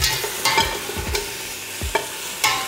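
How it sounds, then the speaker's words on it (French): Pho broth with cinnamon stirred in a pot, a spoon scraping the bottom in several distinct strokes over a steady simmering sizzle, close and clear with no talking. "ensuite on va venir mélanger un petit peu notre bouillon"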